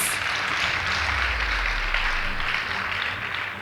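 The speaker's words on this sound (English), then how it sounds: "Please give them a round of applause." An audience at a girls' high school competition applauds a team, broad sustained clapping filling the space steadily throughout with no voices standing out.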